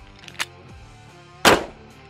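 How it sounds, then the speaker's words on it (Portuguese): Handgun fired during a defensive shooting drill: a faint sharp crack early on, then a much louder, close report about a second later, with quiet room tone between the shots. "Ameaça à frente, ameaça surgiu, saquei, efetuei o disparo"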